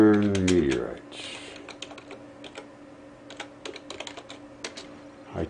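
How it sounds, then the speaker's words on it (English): Computer keyboard typing, a quick irregular run of close key clicks after a brief burst of speech at the start, continuing steadily over a faint background hum. "I type terrible, I do everything terribly, but I get the job done somehow."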